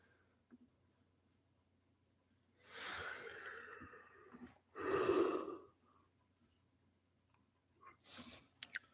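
A person yawns, with two drawn-out breathy swells in close succession, the second louder, then a quiet breath and a few soft clicks.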